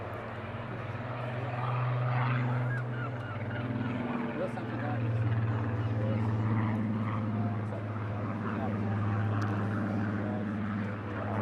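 A Spitfire PR XIX with a Griffon engine flies a display at the 2022 Eastbourne Airshow, its propeller engine a loud, sustained drone with steady low harmonic tones that swell and ease slightly over several seconds.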